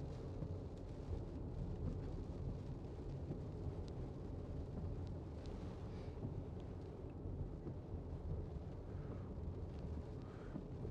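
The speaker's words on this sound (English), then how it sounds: "Rain sounds like it's almost sleet." Heavy rain close to sleet drums on a 2017 Audi Q5 2.0 TDI S line quattro, a steady, dense, unbroken wash of noise lasting throughout with no voices.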